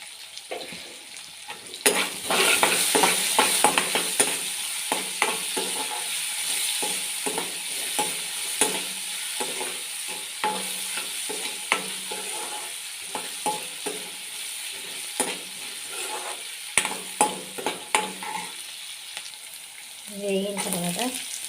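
Dal fries in oil in a pan while upma is being prepared, a steady sizzle broken by repeated scraping stirs and spoon clinks that run for about twenty seconds, close and with no talking.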